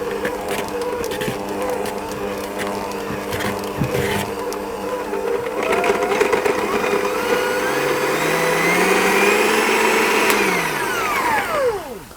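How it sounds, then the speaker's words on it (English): An electric mixer churns dates into a crumbly dough for date and almond cookies, its motor droning close and loud for several seconds before winding down in pitch at the end. "I'll use my mixer again just to mix those until everything starts to clump together into a sort of crumbly type of dough"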